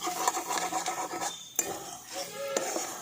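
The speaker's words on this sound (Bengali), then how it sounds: "এবার সমস্ত কিছু আমি ভালো করে একবার নাড়াচাড়া করে নিচ্ছি।" Cooked okra being turned in a pan, with close metallic scrapes and clinks of a spoon against the pan in uneven bursts, separated by a brief near-silent gap and a sharp knock.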